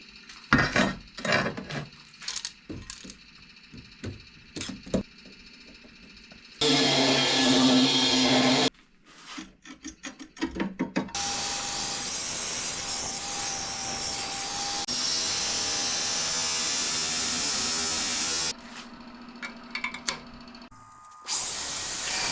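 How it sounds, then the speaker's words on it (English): Nitro steel, a corrosion-resistant knife steel, is cut and rough ground in a workshop. Scattered metallic clanks and handling knocks surround a two-second burst of cutting, then a long, steady, hissing grind lasts about seven seconds before cutting off. "So let's cut it and rough grind it."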